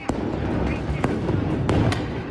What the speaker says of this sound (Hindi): इन लोगों को पीछे खदेड़ने के लिए पुलिस की तरफ से धमाका करने वाले ग्रेनेड का इस्तेमाल किया गया।